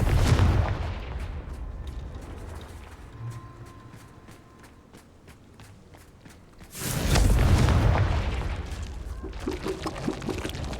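Confringo fire spell blasts in a Harry Potter video game: a heavy explosive boom opens, followed by a quieter stretch of rhythmic ticking, then a second loud rumbling blast that trails into lingering debris noise.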